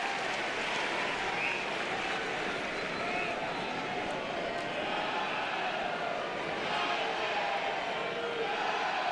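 The crowd at an Oklahoma vs LSU college baseball game makes a steady, broad roar of cheering and noise to energize the Tigers, continuous and fairly distant, with a commentator's voice over it.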